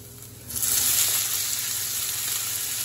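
Garlic and vegetables go into a hot pan, and a faint hiss jumps into a loud, dense sizzle that holds steady close by, with no voices.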